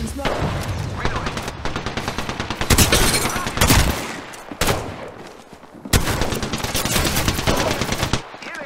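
Automatic gunfire in a shooter video game, loud sustained bursts of rapid shots with brief pauses, under a voice talking.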